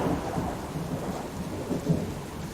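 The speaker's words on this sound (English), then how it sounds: "Oh, that thunder is loud." Thunder rumbles low and continuous through a rainstorm in the survival video game Subsistence, with a steady wash of rain throughout and no talking.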